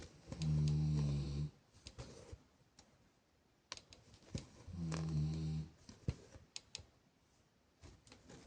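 A dog snores in two long, loud, droning bursts, each about a second and a half, with scattered clicks and small taps in between while a vacuum cleaner is in use nearby.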